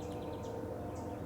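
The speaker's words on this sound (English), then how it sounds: "You may hear the train going by," A train passes far off outdoors at sunrise, a faint, steady low rumble that holds throughout, with a few soft bird chirps scattered above it.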